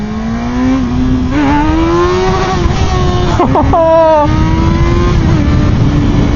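A Yamaha FZ6R motorcycle engine revs hard toward redline while riding, its loud, close whine climbing in pitch, dipping briefly, then surging again under wind rush, with a voice talking over it.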